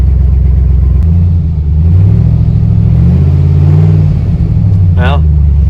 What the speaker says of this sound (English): I can rev it up without much issue